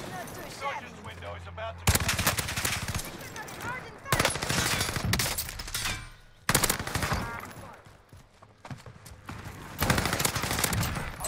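Machine gun with heavy recoil in Warzone, loud rapid bursts of automatic fire in several long volleys separated by short gaps, close and dominant, with voices chatting between and under the shots.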